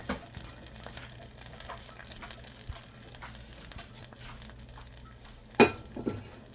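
Hot tempering (bagar) poured into a lentil and raw papaya curry gives a quiet, steady sizzle and bubbling, with a sharp clink of a utensil near the end.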